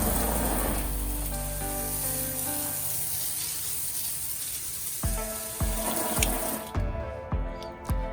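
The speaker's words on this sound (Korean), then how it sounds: "작은 사이즈의 건부터 테스트 해봅니다. 그래도 물줄기는 꽤 시원하게 나갑니다." A small handheld high-pressure water spray gun jets water in a steady, fairly loud hiss for several seconds, followed by a few irregular knocks and clatters before the spray cuts off.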